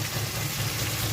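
A car engine idles somewhere below the building, a steady low hum running continuously and fairly loud, with no speech over it.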